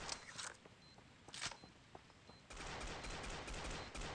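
Gunfire in Counter-Strike on the original Xbox: scattered sharp shots early on, then a dense, sustained burst of rapid automatic fire filling the last second and a half, fairly close and loud with no talk.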